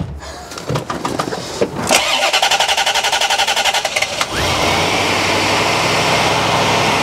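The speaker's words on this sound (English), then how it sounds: "So, start the car and do it again." A Corvette C4 ZR-1 engine cranks with rapid rhythmic chugging, then catches and settles into a steady, loud idle.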